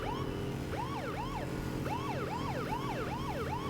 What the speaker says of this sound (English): that this has a siren, I think that's hilarious.